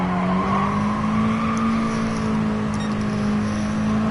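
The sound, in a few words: car engine bouncing off rev limiter in Gran Turismo Sport video game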